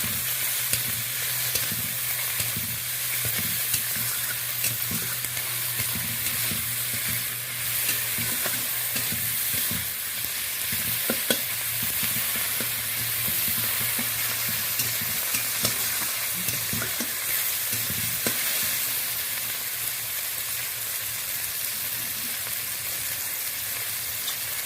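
Curry ingredients for a fish curry with ridge gourd and potato are stirred and fried until reddish, a steady close sizzle and hiss running throughout with repeated scraping stirs and no talking.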